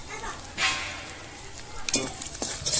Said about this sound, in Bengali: মশলাটা আমার ভাজা ভাজা হয়ে গেছে